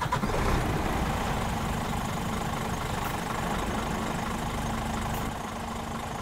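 Scania R2009 Streamline truck engine idling in Euro Truck Simulator 2, a steady low diesel rumble with a constant hum, close and even throughout with no speech.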